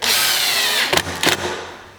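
A power drill drives screws into a wooden birdhouse, a loud close whir punctuated by two short bursts of the screw biting into the wood.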